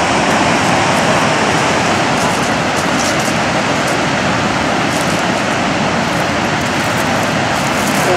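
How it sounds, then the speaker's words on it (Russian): A powerful waterfall roars in a constant, loud, unbroken rush of white water, close by and with no voices. "Это водопад был."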